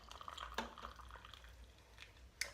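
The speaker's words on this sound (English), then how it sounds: "And then you just pour in your hot water." Hot water at about 85 degrees is poured into a teacup, giving faint trickling and splashing with a few sharp drips and clinks over a low background hum.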